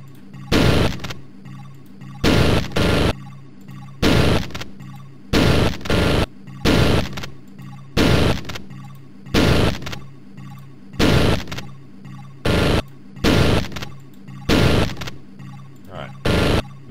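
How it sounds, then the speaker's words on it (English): A shotgun in the video game Syndicate fires again and again, heavy broadband blasts spaced roughly a second apart, sometimes in quick pairs, loud and close against a humming background. "Alright, charge out with the shotgun."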